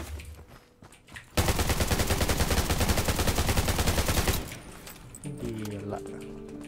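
A sustained burst of fully automatic AKM rifle fire in the mobile shooter Garena Undawn, loud, close and rapid, lasting about three seconds before cutting off, with faint game sounds before and after.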